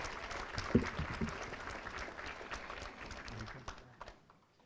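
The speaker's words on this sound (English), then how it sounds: "let's give Gloria Verrett a big round of applause" An audience applauds for Gloria Verrett at a school appreciation ceremony, a soft, steady wash of clapping that fades out near the end.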